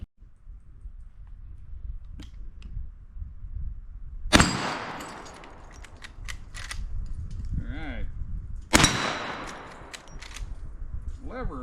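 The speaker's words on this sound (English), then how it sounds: "you're gonna leave it up here at your shoulder and you're gonna work the lever and fire again" A lever-action rifle fired twice from the shoulder, two sharp loud reports several seconds apart, each with a ringing tail and a metallic lever clack and rattle between them.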